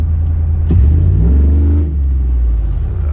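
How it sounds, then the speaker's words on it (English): A Chevrolet Silverado single cab pickup with newly installed headers gives a short blip of throttle, its deep idle rumble swelling briefly into a loud rev before settling back, close and alone. "I just gave it a little gas there."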